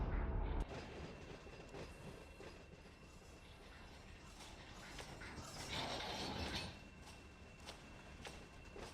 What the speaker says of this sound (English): What's going on, CSX train?